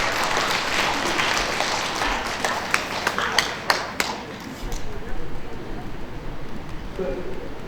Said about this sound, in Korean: 큰 박수 진짜 부탁드립니다.